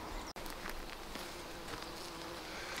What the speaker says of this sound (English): there's bees buzzing all around them just now